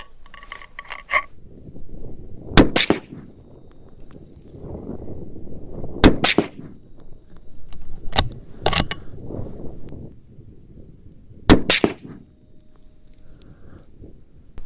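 Mossberg 100 rifle shots on an outdoor range, four sharp cracks spaced a few seconds apart, each with a brief echo, over quiet ambient noise.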